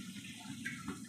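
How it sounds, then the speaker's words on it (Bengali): A small splash of water poured into a pan of chicken curry with cream, a soft, brief trickle heard alone at low level. "অল্প একটু জল দেবো।"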